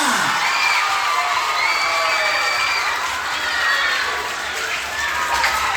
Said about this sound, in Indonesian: Tepuk tangan yang meriah bagi kita semuanya.